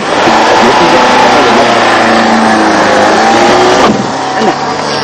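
A car engine that won't start properly, cranking and revving loudly and close for several seconds before cutting off, with voices heard briefly at the end.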